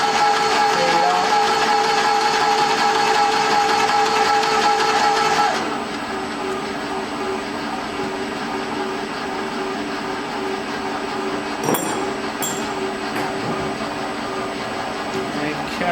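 A Graco E-10HP sprayer pumps during a flush-out, a steady mechanical hum and whine that cuts off partway, leaving a quieter background with a few brief clicks and rattles.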